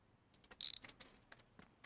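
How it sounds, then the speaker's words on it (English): A wrench undoing the two bolts on a car battery, giving a few faint, quick metallic ratcheting clicks and taps in a quiet garage, with no voices. "let's grab the wrench and just undo these 2 bolts over here on the battery"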